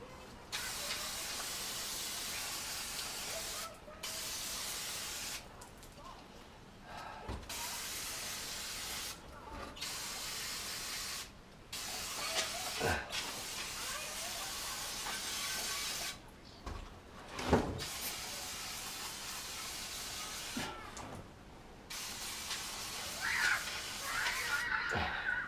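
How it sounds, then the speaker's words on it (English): Brake cleaner sprays onto the camshaft cover of a Triumph Dolomite in a series of steady hissing bursts separated by short pauses, close and fairly loud, with no talking. "I'm going to hit it with the brake cleaner"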